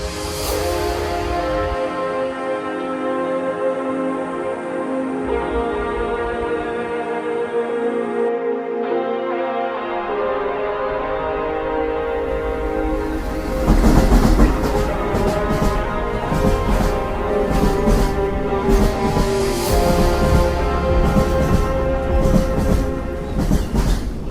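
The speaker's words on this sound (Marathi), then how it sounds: "भेटतो आता ट्रेन आलं." A train pulls into a station, its long horn-like tonal drone sounding first, then rumbling wheels and rhythmic clattering of carriages grow louder and closer as it arrives, with no talking.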